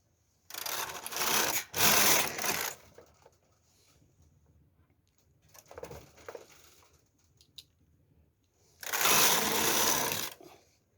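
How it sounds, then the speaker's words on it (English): A knitting machine carriage slides across the needle bed knitting rows of lace, giving three separate loud rasping sweeps, close by, with quiet gaps between them. "So I'm going to bring my empty needle back to work and knit 2 rows."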